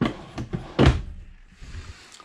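Drawers in a 2020 Grand Design Reflection 315RLTS travel trailer sliding and bumping shut, a few soft knocks and one firm thunk close by, with quieter rattles trailing off.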